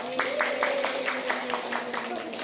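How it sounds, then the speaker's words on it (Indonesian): A classroom of students applauds a classmate with rhythmic, fairly steady clapping, moderately close, with voices and a tone running underneath. "tepuk tangan dulu ya buat Nadila"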